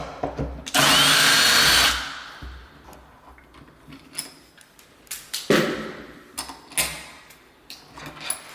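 A power driver backs Phillips head screws out of a door handle in one loud whirring burst about a second long. Scattered clicks, taps and handling knocks follow close by.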